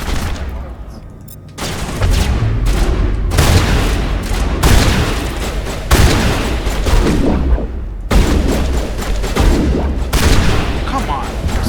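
Heavy gunfire during a fight with a Krogan in Mass Effect: Legendary Edition, with loud repeated bursts and booming shots over about ten seconds and only brief gaps between volleys.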